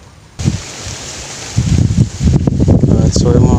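Strong wind buffets the microphone in a steady roar, rising and gusting louder partway through, with rough rumbling noise outdoors.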